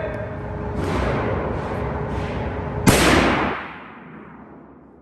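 Gunfire at an outdoor shooting range: a few sharp reports spaced about a second apart, then one louder, closer shot whose ringing tail fades over roughly a second.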